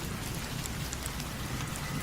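Heavy rain pours down in a steady, dense hiss with no pauses, fairly faint and even throughout, with no voices over it.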